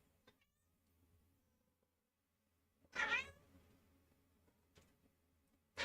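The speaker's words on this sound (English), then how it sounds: "my cat meows" A house cat gives a single clear meow partway through, close to the mic in an otherwise quiet room, with faint soft clicks before and after and no talking.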